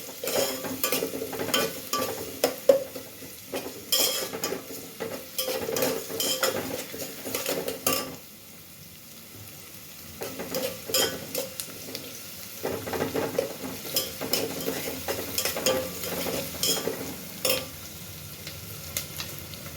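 Onions frying in oil over a cumin and mustard seed tempering, stirred in a pan for traditional Bhogi vegetable curry: a steady sizzle broken by repeated scraping of a spoon against metal, with a brief quieter stretch midway.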